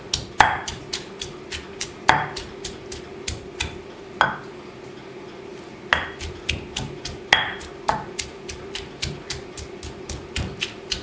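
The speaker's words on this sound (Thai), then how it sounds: "วิธีตำเนี่ยก็คือตำให้มันค่อนข้างละเอียดเลยนะครับตำน้ำพริกหนุ่ม" Shallots and garlic pounded fairly fine in a mortar for Thai nam prik num, a steady series of sharp, close thuds repeating roughly every half second, with no talking over them.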